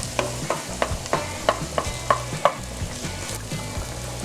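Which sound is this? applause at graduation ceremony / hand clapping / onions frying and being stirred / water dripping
onions frying and being stirred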